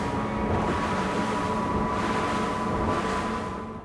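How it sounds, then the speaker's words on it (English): A Chris Craft Catalina 30 motor boat under way on a Mercury Verado outboard with a volumetric compressor, giving a loud, steady engine roar mixed with rushing wind and water for the whole stretch, with no talking. "I just can't go that slowly, especially when Verado's volumetric compressor is performing so well."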